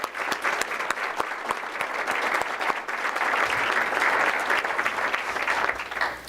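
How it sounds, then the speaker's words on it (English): Steady applause from an audience at a public school board of education meeting, a dense, sustained patter of many hands clapping that fills the whole stretch at an even level with no talk over it. "if we can just applaud these adults"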